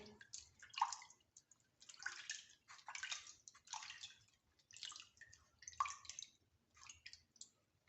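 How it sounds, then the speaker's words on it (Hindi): Hands being washed with lukewarm water, a series of splashing, trickling bursts of running water coming and going at a steady pace, fairly quiet and close, with no talking. "और अब हम नीम गर्म पानी से हाथ धोएंगे।"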